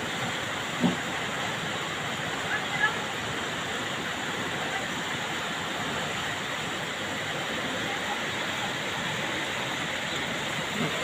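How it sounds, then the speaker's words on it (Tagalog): Floodwater rushes through a swollen creek during continuous rain, a steady broadband roar of moving water that holds at an even, fairly distant level throughout with no voices. "So tuloy-tuloy ang ulan, tuloy-tuloy rin ang baha. Kaya lumalaki yung sapa."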